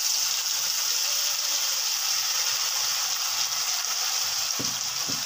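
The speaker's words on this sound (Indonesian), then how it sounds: "Dan kita akan tumis sampai harum ya teman-teman bumbunya." Blended sambal goreng spice paste sizzles steadily in hot cooking oil, a constant, fairly loud frying hiss, with a few soft clicks of stirring near the end and no talking.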